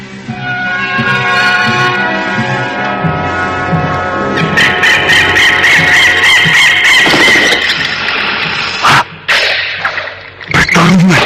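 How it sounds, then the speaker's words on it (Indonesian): Radio drama sound effect of a bird fighting a snake: loud, busy layered squawks and crowing-like fowl cries with scuffling bursts, continuous throughout and growing more chaotic toward the end. "Satu ekor ular melawan satu ekor burung."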